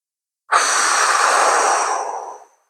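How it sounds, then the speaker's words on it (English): A single deep breath, drawn in and let out slowly over about two seconds, close and clear against silence, taken while holding a lower back decompression stretch on the floor. "just sit here and take some deep breaths"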